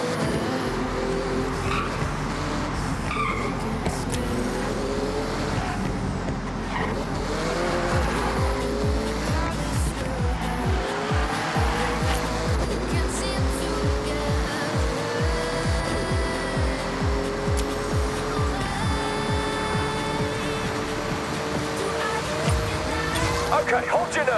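A Porsche engine revs hard as it speeds through a speed zone in the Forza Horizon racing game, with shifting engine tones and tire squeal running loud and continuous throughout, while someone talks over it.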